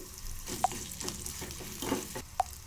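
Cumin, mustard seeds, urad dal, green chili and curry leaves fry in oil for an idli upma tempering, giving a soft steady sizzle broken by a few sharp pops and light stirring scrapes.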